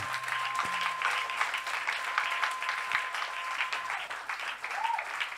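Church congregation applauding steadily, a dense continuous wash of clapping from many hands throughout, with faint voices mixed in.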